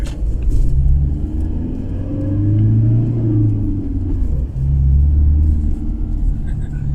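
A Toyota engine at full throttle in first gear gives a steady low rumble with a slow rise and fall in pitch, heard from inside the vehicle while someone talks over it.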